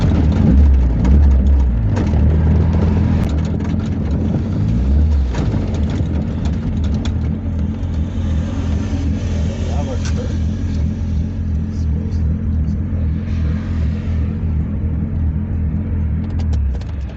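A Honda Civic drives on a road in Jamaica, its low engine rumble droning steadily and close throughout, with no clear changes in pace.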